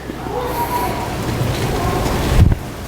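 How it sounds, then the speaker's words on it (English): Steady rain patters on a roof, a continuous soft hiss with a brief heavier thump near the end. "I hear raindrops hitting my roof."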